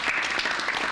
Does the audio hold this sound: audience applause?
yes